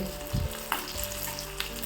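Egg batter sizzling in an unniyappam pan for mutta surka, a loud continuous frying hiss with a few brief pops and bubbles, close and without any talk.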